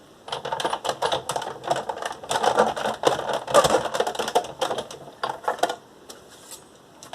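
An old, clunky Big Shot die cutting machine cranks a brand new embossing folder through its rollers, making a steady run of close, rhythmic clattering and ratcheting clicks for several seconds with no talk.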